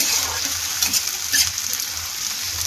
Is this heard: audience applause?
no